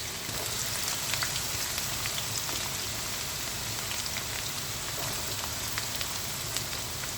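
A large onion frying in a pan for a quick chicken gravy, giving a steady, even sizzle and crackle that runs unbroken throughout at moderate volume with no voices.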